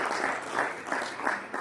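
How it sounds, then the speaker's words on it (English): A gala dinner audience at an anniversary celebration gives a round of applause, a steady, dense clapping that swells slightly in waves and fills the room for the whole short stretch. "Let's give him a round of applause."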